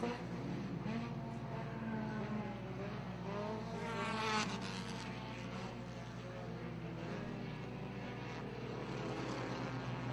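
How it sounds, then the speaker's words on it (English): Four-cylinder race cars on the Fonda Speedway track, a continuous engine roar of several cars with one rising and passing near the middle, partly covered by an announcer's commentary. "But now fast cars trying to make their way towards the front."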